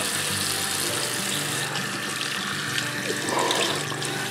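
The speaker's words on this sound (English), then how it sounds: "So now you're just going to rinse your hands off" Tap water runs steadily into a sink while hands are rinsed during a hand-care routine, a close, continuous splashing hiss with no talking.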